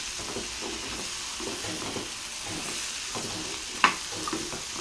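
Cut jackfruit seeds tossed with masala in a pan give off a soft, steady sizzle with light stirring scrapes and one sharp clink of the spoon against the pan, faint and close.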